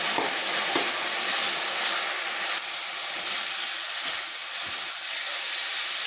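Fried potato and bitter gourd sautéing in spice masala in a pan for a karola fish curry, a steady close sizzle with soft stirring scrapes running throughout, no voices.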